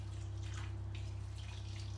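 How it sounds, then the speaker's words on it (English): Boiling water with a stock cube pours into a pot, a brief close rush of liquid over a steady low electrical hum. "we have got a stock cube with some boiling water. So I'll just pop all that in there."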